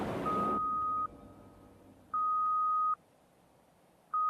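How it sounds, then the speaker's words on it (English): Steady electronic beeps of a black bear's radio collar mortality signal, each long tone repeating at even intervals over a faint hiss. "Shannon Podrusny picked up the telltale sound of a bear mortality signal."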